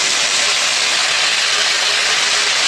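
Broccoli frying in a pan, a loud, close, continuous hiss of sizzling oil that holds steady throughout without pause or voices.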